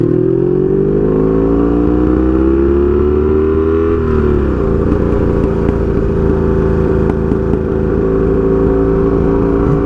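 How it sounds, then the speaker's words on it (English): A loud Honda Magna 750 motorcycle with straight-pipe exhaust idles and revs with a rough, crackling, backfiring exhaust, steady and close throughout. "You hear that though? It's just too much backfire for my taste"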